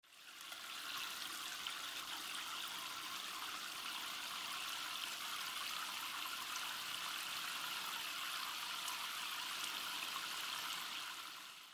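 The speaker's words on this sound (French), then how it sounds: "on va mettre un peu de jus de noix de lavage dans sa petite cuvette et on va remplir avec de l'eau" Hot water runs steadily into a small basin for a home wash, making a continuous, even rush and splash that stays close and loud the whole time, with no speech.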